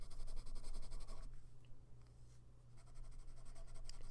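A pencil sketching a tattoo design on paper, with continuous close scratchy strokes, a short pause in the middle, then more scratching under a low steady hum.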